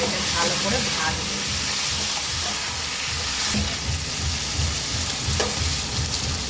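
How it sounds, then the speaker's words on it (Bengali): Sliced eggplant frying in a pan with oil, a steady close sizzle and crackle running throughout, with soft stirring clinks and a voice speaking faintly at times. "এটা ভালো করে ভাজবো।"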